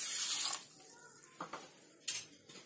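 Water pours onto sugar in a kadhai on a gas stove, a hissing splash at the start that fades into quieter trickles and a few light clinks of utensils.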